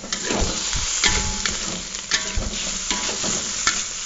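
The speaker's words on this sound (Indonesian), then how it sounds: "kita oseng ya bahan-bahan yang kita masukin tadi" Ingredients stir-fried in a pan with a little water and sweet soy sauce, for a dish of pindang fish with petai, give a steady sizzle broken by repeated scraping and clattering stirs close by, with no talk.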